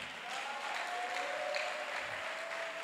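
An audience applauds in a faint, distant, even wash of clapping that holds steady for a few seconds, with a thin sustained tone running underneath.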